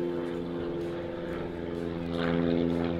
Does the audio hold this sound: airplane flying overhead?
yes